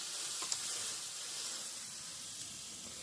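Chicken sizzles on a heated pan in a steady, even hiss with a few tiny pops, close by and continuous, with no talking.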